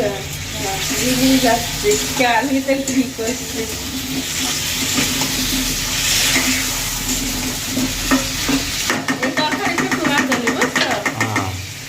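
Sweet pumpkin stirring and frying in a pan, a soft sizzle with scraping stir strokes running beneath frequent conversational voices, ending in a burst of brisk clattering stirs.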